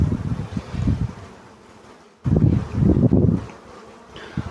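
Honeybees buzz at a hive in a steady low drone that dips briefly and returns, with wind brushing the microphone throughout.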